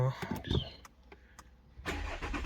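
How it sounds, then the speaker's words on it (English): A Jaguar XF 3.0 V6 diesel cranks and fires up after brake pad work, settling into a steady idle, with someone talking over the start and clicking sounds beforehand. "So just start up the car."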